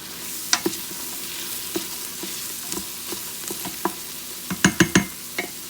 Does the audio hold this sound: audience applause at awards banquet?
no